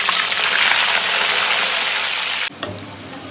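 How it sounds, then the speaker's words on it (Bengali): Chicken nuggets and chicken balls fry in hot oil, a loud, dense sizzling hiss that drops off sharply partway through, leaving quieter bubbling and a few clicks. "এই যে দেখেন আমরা এগুলো ভাজতেছি, একবারে দিয়ে দিই"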